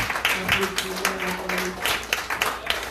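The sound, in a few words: audience applauding the preacher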